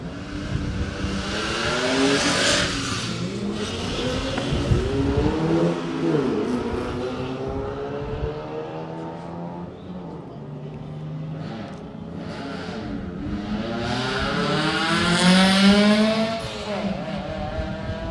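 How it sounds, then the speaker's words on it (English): Historic racing cars, including two big Mercedes-Benz, on track: engines rev hard and climb through gears in repeated rising sweeps, loud and close, with cars roaring past and fading between bursts. "There we go, the 2 big Mercedes-Benz, and Andre Hutting and Michiel Albeholzer."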